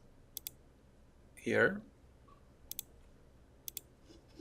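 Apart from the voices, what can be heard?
computer mouse clicking in bridge design software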